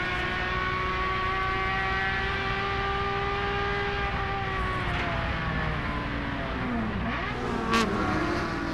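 Onboard a Lexus IS 300 touring race car at Laguna Seca, a loud steady engine drone with shifting harmonic pitch as revs rise and fall, continuous and close throughout, with no voices.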